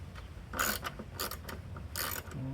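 A ratchet on a long socket extension clicks in several short quick bursts while bolts come out of the windshield wiper transmission on a 2010 Honda CR-V, close up and alone.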